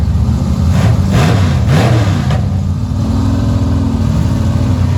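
A Willys Coupe drag racing car's engine at the line, loud and steady with rising revs and rough mid-pitch roar before settling into a sustained drone, heard alone.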